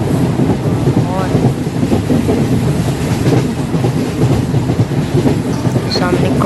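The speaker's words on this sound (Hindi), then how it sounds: "और देखिए कैसा मस्त आ रहा है ट्रैक साउंड्स" Wheels clatter on the rails of a train in an Indian train driving 3D game, a loud, continuous rumble with rhythmic clickety-clack running the whole way, with no voice over it.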